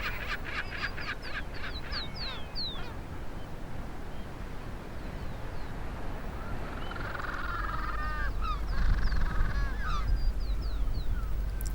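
Penguins call from a crowded nesting colony in Patagonia, with honking, braying cries over a dense, continuous bed of wind and surf that grows louder toward the end.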